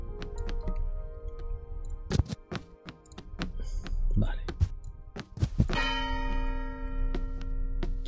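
Bell in the video game Human Fall Flat, struck several times in the Rächer Tower level. It gives sharp metallic clangs with ringing tails, mixed with thumps and clicks as someone speaks over it.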